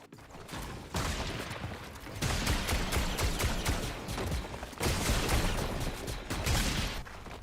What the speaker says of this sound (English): He's just shooting at everybody